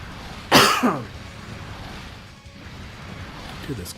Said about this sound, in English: Dude, this cough I can never get rid of.